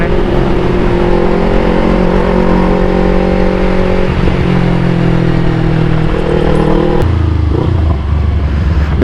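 A Yamaha R25 V2 motorcycle weaving through city traffic, its engine a steady, loud drone that rises and falls in pitch, with shifts around the middle and near the end as the rider changes speed.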